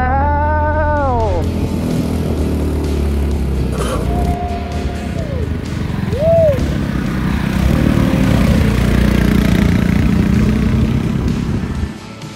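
A Honda Horizon 300 motorcycle ridden on the open road, its engine rising in pitch through rev sweeps and gear changes over steady low rumble and wind noise.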